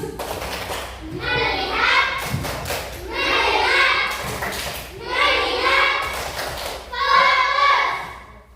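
A class of children chants and claps together in unison in a rhythmic group clapping routine, loud and close, in repeated bursts with short pauses between.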